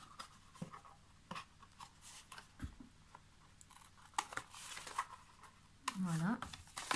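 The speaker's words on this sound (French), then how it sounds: "J'ai mes ciseaux qui ne coupent plus très bien." Dull craft scissors cut down the sides of a cardboard box for a small mini-album gift box, giving intermittent soft snips, scrapes and crinkles. A person talks quietly over the cutting.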